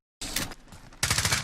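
Rapid bursts of automatic gunfire in the video game Call of Duty Modern Warfare multiplayer, loud and close: one burst after a brief silence, a short lull, then a second sustained volley.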